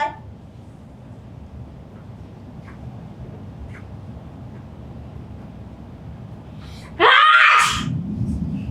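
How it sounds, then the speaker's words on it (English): A loud, abrupt sneeze bursts out near the end of a stage play performance, standing sharply above a quiet, steady room hum after a long stretch without talk. "How can you let people sneeze on you like that?"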